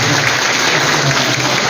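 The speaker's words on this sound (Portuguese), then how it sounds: "Então, palmas para ela." Applause in a church chapel during a parish centenary novena, a dense continuous wash of clapping filling the room loudly for the whole short stretch.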